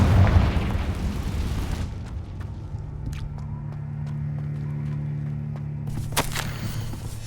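Confringo explosion spell in Hogwarts Legacy bursts with a loud, broad boom that fades over two seconds, followed by scattered small clicks and a low humming drone, then a second softer rush near the end.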